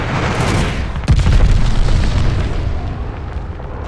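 A glide bomb dropped by enemy forces in a video game hits with one sudden heavy boom, followed by a loud, rumbling roar that slowly fades.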